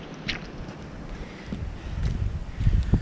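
Strong gusts buffet the microphone beside a trout fishing lake in Tenterden, a rough low rumble that swells louder toward the end.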